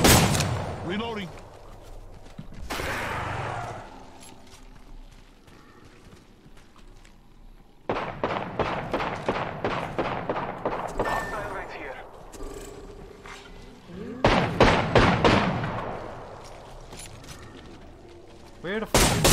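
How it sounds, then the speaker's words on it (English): Rapid gunfire in Apex Legends on PC, a long volley of sharp repeated shots followed by another burst, with clicks of weapon handling and a voice between the shots. "taking fire, brothers!"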